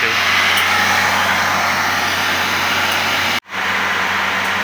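A John Deere 2264 engine running steadily after an alternator repair, a loud, continuous close-up drone that briefly cuts out near the end before resuming.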